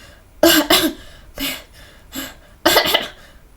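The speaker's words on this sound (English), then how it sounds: "Cough!" Repeated coughing from a young man in an audio drama, four harsh bursts in close succession, some doubled, near and alone with no talk.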